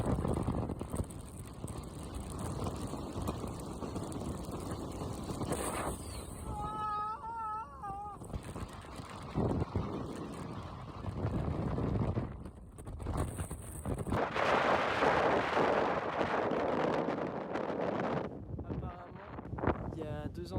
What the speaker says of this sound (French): Et je trouve le vent, ça apporte un côté fin du monde qui est fou